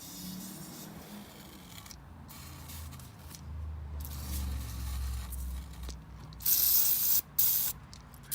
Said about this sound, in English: I would have to spray some penetrating oil on it